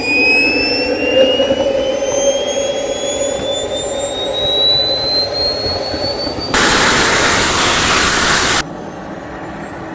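A turbine jet engine on a $25,000 remote-control F/A-18 Hornet fighter jet spools up. Its high whine rises steadily over a steady roar, then a loud broadband blast of thrust lasts about two seconds before dropping back to the whine.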